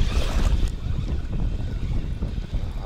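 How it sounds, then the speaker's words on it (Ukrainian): Strong wind buffets the microphone in a constant low roar with gusty swells, loud and close, with no voices, during morning fishing outdoors. "Друзі, вітер."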